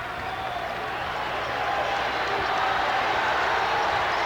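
Basketball arena crowd at a 1997 Indiana versus South Alabama college game, a steady roar of cheering and applause swelling slightly and holding loud through the clip, with faint talk mixed in.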